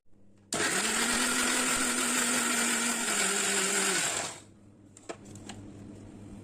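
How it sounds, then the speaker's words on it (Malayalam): A mixer grinder blending tender coconut whirs loudly and steadily for about three and a half seconds, then switches off and spins down, leaving a quieter hum. "ഇത് നന്നായിട്ട് മിക്സിയിലിട്ടൊന്ന് നന്നായിട്ട് നമുക്ക് അടിച്ചെടുക്കാം"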